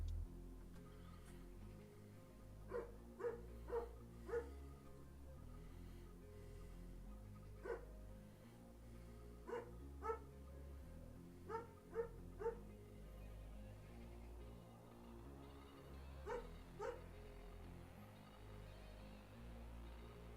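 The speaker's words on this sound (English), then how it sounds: "Dog has gone absolutely haywire today. I apologise for that sound." A neighbourhood dog barks at a distance in scattered single and paired yaps, faint behind a steady indoor background hum.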